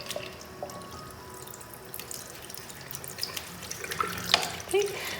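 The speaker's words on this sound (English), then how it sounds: "I just rub the brush with my fingers under the flow of the water" Tap water runs steadily into a sink while a makeup brush is rinsed and rubbed with fingers under the flow, with soft splashes and a few drips standing out near the end.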